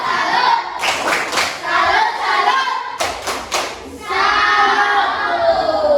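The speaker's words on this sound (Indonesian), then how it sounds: "kita beri tepuk tangan untuk tepuk salut" Students in a classroom perform a 'tepuk salut' salute clap: two bursts of rhythmic, synchronized group clapping with a short pause between, followed by looser scattered clapping and murmuring voices, close and fairly loud.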